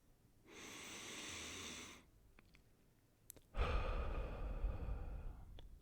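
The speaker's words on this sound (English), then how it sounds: "You can take one deep diaphragmatic breath through the nose with your belly" A deep, slow inhale through the nose fills the belly, followed after a short pause by a louder, longer breathy exhale, close and alone with no talk.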